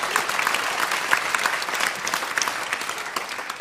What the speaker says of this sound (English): get people to give you a round of applause